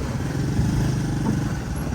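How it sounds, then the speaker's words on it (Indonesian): Steady drone of many motorcycle engines running together on a road, a continuous near, loud rumble with no pauses. "Wah banyak motor nih."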